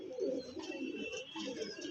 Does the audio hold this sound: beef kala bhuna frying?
no